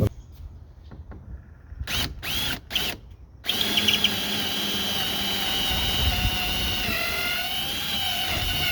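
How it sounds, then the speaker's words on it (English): A power drill whirs in a few short bursts, then runs steadily and loudly for several seconds as it bores through a wooden board on a trailer, pitch shifting slightly under load. "I got to drill through this one here because of the new board up here."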